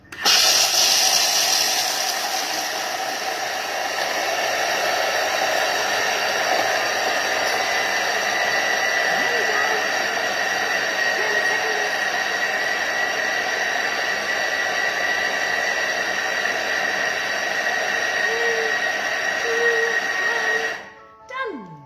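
A kitchen food processor whirs loudly at speed 7 for about twenty seconds, a steady high-pitched drone that cuts off abruptly, followed by a brief voice.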